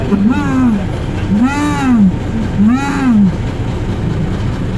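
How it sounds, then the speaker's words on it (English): Lions roaring at a Six Flags Great Adventure safari: three rising-and-falling moaning calls about a second apart, moderately loud over a steady vehicle engine rumble. "But that is definitely roaring."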